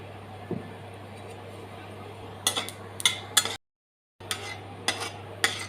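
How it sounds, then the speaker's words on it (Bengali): Cumin seeds crackle faintly in hot mustard oil in a pan, with a spoon clinking and scraping in uneven bursts close by, a short silent gap, and then more stirring. "তেল গরম করে জিরে ফোড়ন দিয়ে দিলাম।"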